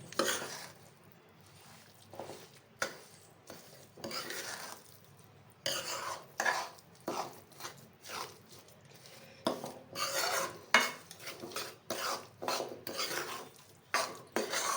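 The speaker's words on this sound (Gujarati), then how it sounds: "હવે આને આપણે ગોળ નાખી દઈશું। એકદમ આપણે મિક્સ કરી લેવાનું છે" Jaggery is mixed into farali sukhdi, a sweet made with milk powder, in a pan. Repeated rasping scrapes of a spoon against the pan come in uneven bursts close up, with no talking.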